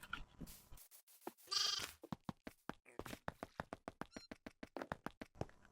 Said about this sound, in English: I've got a new pet. Here he is. It's Billy, the goat.